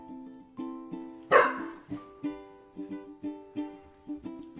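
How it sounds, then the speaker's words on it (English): A dog barks repeatedly, close by, with one sharper loud bark followed by a steady series of shorter yips. "your dog's barking."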